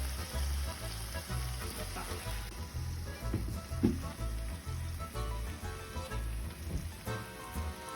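Oil and two tablespoons of butter sizzle steadily in a saucepan, a continuous close frying crackle with a persistent low hum underneath and no talking.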